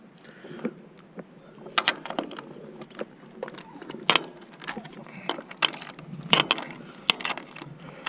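A wrench that will not lock into place ratchets during the installation of a 16-element ham radio antenna on a tram-line system. Close, irregular metallic clicks and clanks come in uneven bursts throughout.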